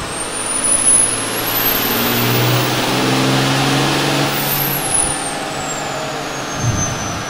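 A turbocharged car engine builds boost with a rising high-pitched turbo whistle that climbs, holds and then falls away as the revs drop, over a steady engine drone, with no talking.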